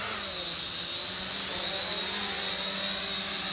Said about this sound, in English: Let's go ahead and unlock the motors, down and out on joysticks, and then hit automatic takeoff.